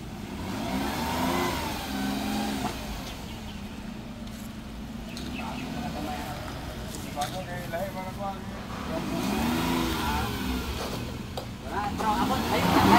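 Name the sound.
Suzuki DA65T engine running and revving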